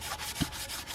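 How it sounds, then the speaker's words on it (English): Hand sanding of guide coat on the body of a Ford F250 truck, a steady soft rubbing scrape close by with one brief louder knock partway through, no talking. "So we just keep sanding."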